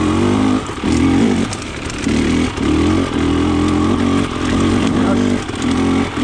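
Close and loud, a KTM 300 XC TPI two-stroke dirt bike with a low-compression head chugs in third gear on rocky ground, the engine rising and dipping in repeated throttle pulses with a voice faintly under it.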